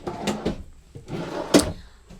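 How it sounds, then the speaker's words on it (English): Large dresser drawers in a 2026 Coachmen Catalina RV slide open and shut in quick succession, giving several close wooden thumps and rolling scrapes with no talk over them. "So you got two really big drawers here and a cabinet here."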